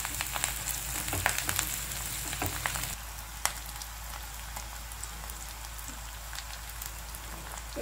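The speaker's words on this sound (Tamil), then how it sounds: "நல்லா வதக்கிக்கலாம்." Green chillies sauté in a pan with a steady, hissing sizzle and light crackles up close; the sizzle drops noticeably quieter about a third of the way through and continues evenly.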